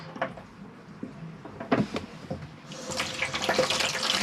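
Water starting to run from a tap in a caravan or motorhome as the gas-heated water pump kicks in, a few knocks and clunks first, then a rising steady hiss of flowing water, fairly quiet and close.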